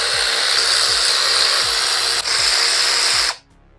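A cordless impact wrench runs in a loud continuous whirring burst with rhythmic hammering pulses while removing 8mm bolts from a stator cover, briefly dipping midway before stopping abruptly.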